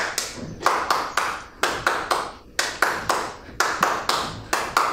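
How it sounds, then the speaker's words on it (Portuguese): Rhythmic hand clapping in a fourth-grade physical education class, sharp individual claps in a steady, slightly quickening pattern, close and clear with no talk over it. "o que dita o ritmo são as palmas"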